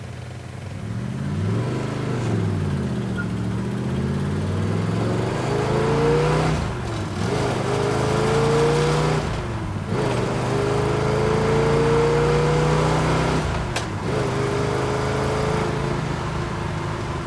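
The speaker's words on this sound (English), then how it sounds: "Really nice running 69 Camaro," A 1969 Chevrolet Camaro SS with a 427 V8 pulls hard from inside the car, engine rising through the revs with several gear changes, each upshift dropping the pitch before it climbs again, loud and continuous throughout.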